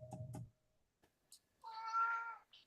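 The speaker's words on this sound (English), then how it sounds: "I hear a kitty." A domestic cat meows once in a drawn-out, faint cry in a home office during an online call, following a few soft thumps and clicks in an otherwise quiet room.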